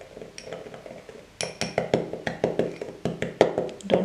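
Spoon clinking against a bowl while almond essence is stirred into an edible pollen mixture for sugar flowers, a steady run of close, bright taps and scrapes repeating roughly every quarter second, starting quietly then louder.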